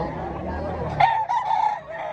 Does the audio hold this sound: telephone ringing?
no